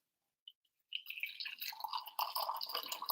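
Espresso roast coffee pours and drips into a container, a brief drop at first, then a steady bright trickle and splatter that grows fuller toward the end, close and clear with no talking.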